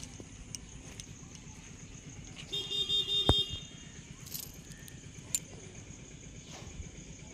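A tempo three-wheeler's horn gives a single short honk of about a second, moderately loud, over steady outdoor background noise.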